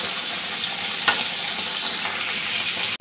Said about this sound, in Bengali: মাছটা ভাজতে দিয়ে দিচ্ছি।